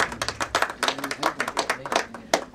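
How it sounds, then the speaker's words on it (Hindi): Audience clapping at a music album launch, a dense spread of hand claps rising and falling in bursts, fairly close, with a little voice underneath. "उनके लिए भी प्लीज जोरदार तालियां हो जाए"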